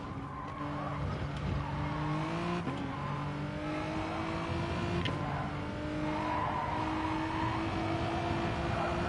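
A racing car with an A45 engine drives in GT Sport at the Sardegna circuit during an endurance GT race. The engine drones steadily and shifts pitch throughout, with tyre skid and squeal mixed in and no voices.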